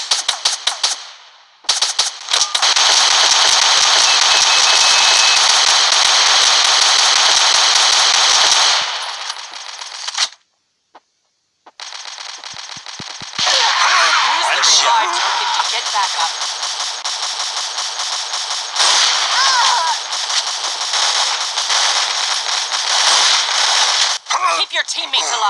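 Sustained automatic gunfire in the mobile shooter game Rival Fire, loud and dense in long bursts with short gaps between them, mixed with harsh crackling game effects.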